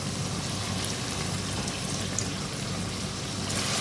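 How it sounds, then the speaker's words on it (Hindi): About a quarter cup of water is poured into a cooking pan of potatoes, peas and minced meat for aloo matar keema, a steady sizzling, splashing hiss that continues evenly throughout. "अब आलूओं को गलाने के लिए थोड़ा सा पानी डालूंगी इसमें मैं"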